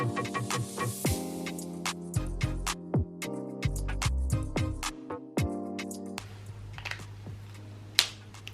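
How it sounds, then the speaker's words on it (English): Pens click repeatedly in sharp, close snaps, scattered irregularly, with faint scratching of markers in between. "Oh, I do love the click of these pens."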